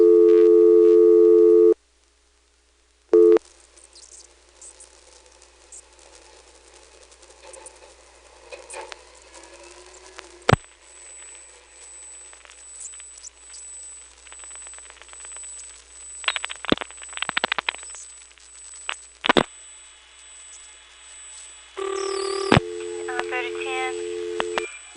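Telephone calls through a GTE Leich CXP-5 exchange in 1977: a loud steady tone, a silent gap, then quiet line hiss with clicks and pulses, faint voices talking, and a tone returning near the end.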